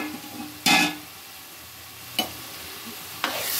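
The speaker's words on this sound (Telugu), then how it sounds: "ఇది కొంచెం వేగనిద్దాం." Masala sizzles and fries in oil in a pan under a steady soft hiss, broken by three sharp bursts of louder frying or stirring, the first strongest and longest.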